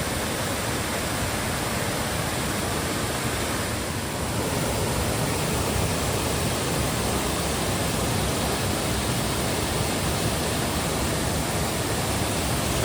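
A waterfall, Janet's Foss, tumbles into clear water among mossy banks and trees, giving a steady, dense, unbroken roar of rushing water that stays loud and even throughout, with no voices.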